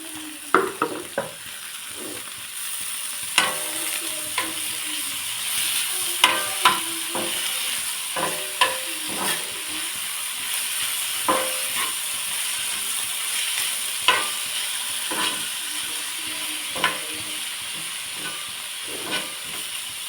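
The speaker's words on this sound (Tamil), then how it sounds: "லைட்டாக பச்சை வாசம் போடுறதுக்காக நான் இதில் வணக்கிறேன்." Grated potato and radish fry in a hot pan, a constant loud sizzle and hiss broken by frequent scraping clicks as a utensil stirs them, with no talk.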